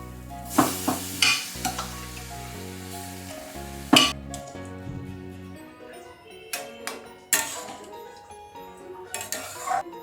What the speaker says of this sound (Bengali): এবার আমি এতে সেদ্ধ ছোলাগুলো দিয়ে দিচ্ছি